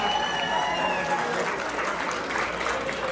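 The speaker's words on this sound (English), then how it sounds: "round of applause." A comedy club crowd at Marina Del Rey in the Bronx applauds between bits of a stand-up set, a steady wash of clapping at moderate volume with no voices over it.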